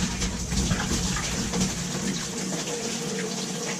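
Water swishes and churns inside a glass carboy being swirled during cleaning, a continuous close, moderately loud sloshing rush lasting a few seconds with no voices.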